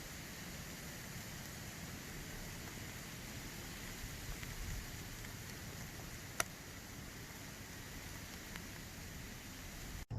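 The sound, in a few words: rain falling on the Appalachian Trail near Angel's Rest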